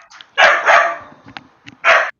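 A dog barks close by, loud and sharp: a pair of quick barks followed by a single bark after a short pause, with faint small sounds in between.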